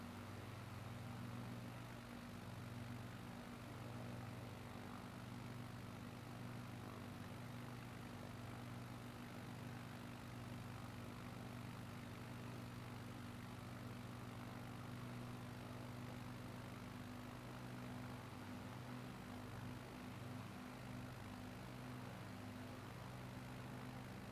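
Steady, unbroken engine drone inside an aircraft cabin at cruising altitude, a low tonal hum with constant broadband roar, faint and continuous throughout with no voices.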